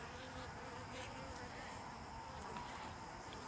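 Honeybees swarming around a top-bar beehive during a raid, a steady faint hum of many wings from nearby, with a soft voice underneath.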